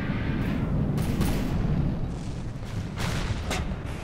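Torpedoes exploding in the naval combat game From the Depths: a series of deep, rumbling booms and bursts rolling over one another, loud and close, with no talking.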